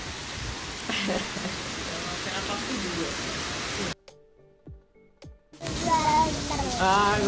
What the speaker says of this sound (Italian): Piove in orizzontale. Oh mio Dio, diluvio universale qui.